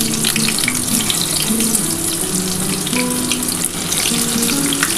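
Pointed gourd (potol) tossed into hot oil tempered with whole cumin seeds, frying with a steady, close hiss and crackle that holds at an even level throughout.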